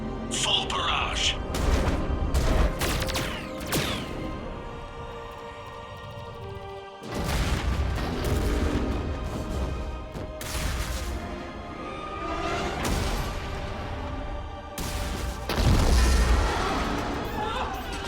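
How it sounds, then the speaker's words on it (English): Starship barrage in the Mass Effect 3 game, heavy booming volleys and crashing impacts in repeated loud bursts, with voices speaking over the battle. "All ships, full barrage."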